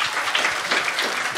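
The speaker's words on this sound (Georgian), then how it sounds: "ლევანს აპლოდისმენტები, დიდი მადლობა." An audience applauds the Georgian comedian Levan at a stand-up comedy show, a dense, steady burst of many hands clapping, loud and close throughout the short moment.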